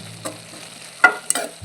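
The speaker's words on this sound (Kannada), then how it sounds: "ತೆಂಗಿನ ತುರಿ ಹಾಕಿ ಹೀಗೆ ಮಿಕ್ಸ್ ಮಾಡುವ." Spoon scraping and stirring grated coconut into beetroot palya in a hot pan, a few brief soft scrapes and light sizzles close by, with no talking.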